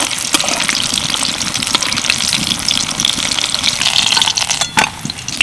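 Pieces of green banana frying in hot oil as they are turned over in the pan, giving a loud, close, steady sizzle with a few sharp clinks and bubbling spurts.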